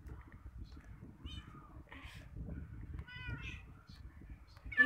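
A cat meows in the Minecraft video game, several short electronic mews spread across a soft low background murmur, fairly quiet and close.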